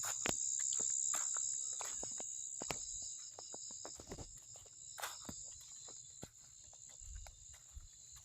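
Frogs call at night, a faint outdoor chorus of short, irregular croaking pulses over a steady high insect-like drone, with no voices.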